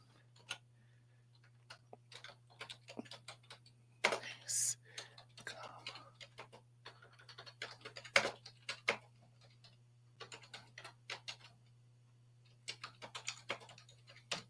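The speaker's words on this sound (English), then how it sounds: "I'm typing as feverishly and as possibly as I can." Computer keyboard typing, with irregular bursts of clicking keystrokes close up, pausing and resuming over a steady low hum; a voice speaks softly at times between the typing runs.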